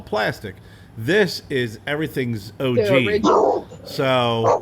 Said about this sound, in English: It's the dog from next door.